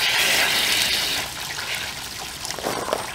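Hot water drains from a water heater's pressure relief valve, a steady, close hiss and trickle that eases after a second and leaves softer dribbling and gurgling, with no speech.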